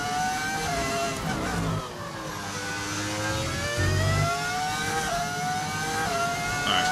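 An F1 race car engine in the F1 25 video game, played with an engine sound mod, screams at high revs with rising and falling pitch through gear changes and a turn, loud and steady without talk.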